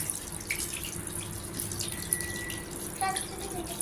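Drinking water pours into a container, a faint trickling splash with light clinks and drips, fairly near, low in level against quiet room background.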